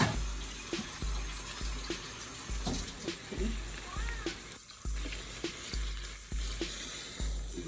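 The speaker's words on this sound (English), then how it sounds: "So now I'm gonna add some water" Water splashes and trickles steadily into a container, with faint clinks and background hiss, close by and fairly quiet.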